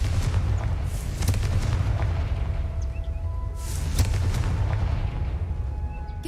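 Booming blasts from a Confringo fire spell in Hogwarts Legacy, two sharp bursts with rumbling tails, the second louder, set over a steady low game ambience.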